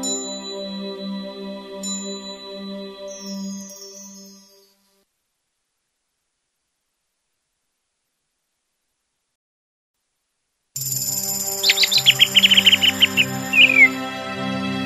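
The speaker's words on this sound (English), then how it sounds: "Blackbird loudly singing from an old pine tree." Blackbird singing loudly from an old pine tree on a sloping, wooded hillside in summer, a burst of rich warbling phrases after a quiet gap, following earlier tonal chimes.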